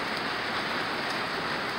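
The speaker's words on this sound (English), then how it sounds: "that's how much rain we're getting right now" Heavy rain pours steadily onto a porch deck during a severe storm, a dense, close, unbroken hiss of drops with no voices.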